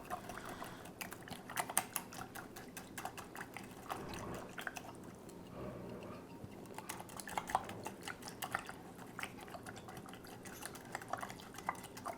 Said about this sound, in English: And give it a good whisk.